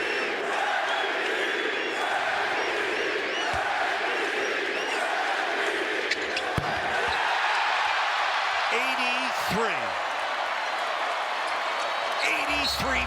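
An NBA arena crowd roars for Bam Adebayo of the Miami Heat after his 83-point game, a loud, sustained cheering swell with whoops, under a commentator's voice.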